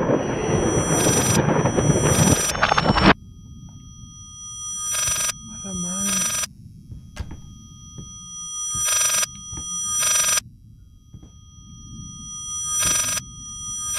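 An electronic phone ring from the video game Layers of Fear repeats in short bursts with gaps between, after a loud noisy opening; a voice murmurs faintly underneath.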